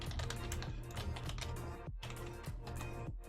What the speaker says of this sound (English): This is my mechanical keyboard.